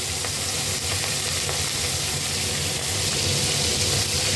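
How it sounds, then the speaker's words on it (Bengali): Tiger prawns fry in hot oil in a wok, giving a loud, continuous close-up sizzle and hiss that holds steady throughout, with no voices. "কড়াইতে তেল দিয়েছি তেলটা গরম হয়ে এসছে এবার আমি চিংড়ি মাছগুলো ভেজে নেব"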